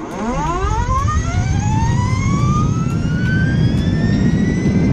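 An Energica electric motorcycle accelerates hard, a loud rising electric whine that climbs steadily in pitch over a rushing road and wind roar, close and sustained.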